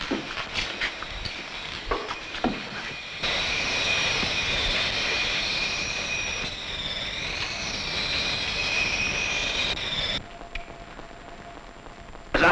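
An airplane engine drones steadily in flight, a loud continuous roar with a high whine that swells and wavers slightly, holding for several seconds before dropping to a lower hum.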